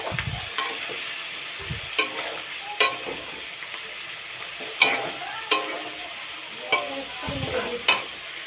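Onions sizzling in a pan until reddish brown for a goat-meat curry, a steady frying hiss broken by repeated sharp spatula scrapes and clinks at a loose rhythm, close and clear.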